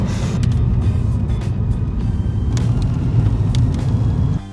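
A Seat Ibiza FR, sharing its engine with the Golf and chassis with the Polo GTI, accelerates hard on the road with a loud, steady engine drone and rumble heard from inside, ending abruptly.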